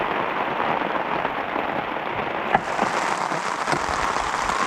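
Heavy rain pours steadily on a rural farmstead, a dense continuous hiss of drops hitting surfaces with a few louder spatters, close and even throughout, with no voices.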